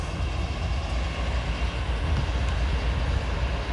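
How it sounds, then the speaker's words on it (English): A CSX freight train rolls past on railroad tracks near the University of Louisville stadium, giving a steady, loud rumble with faint wheel clatter that carries on throughout, with no one speaking. "there goes the train"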